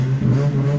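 A 2004 Ford Ka XR engine with a straight-pipe exhaust and no muffler, a loud, close, steady low rumble held through a brief rev.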